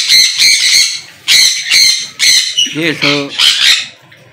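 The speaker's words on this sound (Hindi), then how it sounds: "और सन कनोर की आप टै टै टै टै सुन सकते हैं" Sun conure parrot kept as a pet, giving harsh, repeated squawks in loud bursts close by, alternating with people talking indoors.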